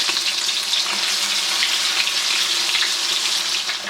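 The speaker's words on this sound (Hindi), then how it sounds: "आपने ईच पीस उठाना है और इसी किसी गर्म तेल में डालते चले जाएंगे और फ्राई करेंगे" Marinated fish pakora pieces fry in hot oil, a loud, close, steady crackling sizzle with hissing bursts and no talking.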